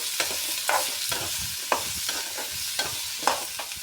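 Onions softening in a pan for sambar, a steady close sizzle broken by spatula scrapes and stirs that recur roughly every second, with no voices.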